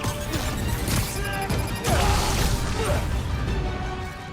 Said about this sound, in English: Launching a grenade!